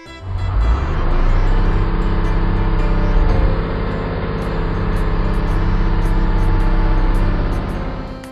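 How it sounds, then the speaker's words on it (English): A garbage truck's heavy engine rumbles loudly and steadily up close, with short sharp hisses like air brakes bursting over the drone, and no voices. "Garbage truck."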